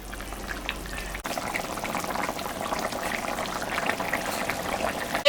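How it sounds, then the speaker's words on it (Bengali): A thin singi fish curry broth bubbles at a gentle boil in a pot, soft continuous simmering and popping, with a short clatter near the end. "ঝোলটা ফুটে গেছে, এখন আমি মাছটা দিয়ে দিই"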